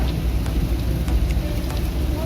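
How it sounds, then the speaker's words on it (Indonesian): Rain falling during a motorbike ride on a slow automatic scooter climbing a hill, a steady rushing patter with scattered drop hits over a low road and engine rumble, no voices. "pas banget hujan"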